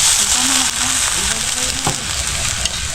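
Pumpkin (kalabasa) sizzles and fries steadily in a pan, making a dense, continuous hiss with occasional stirring. The hiss runs close and loud throughout.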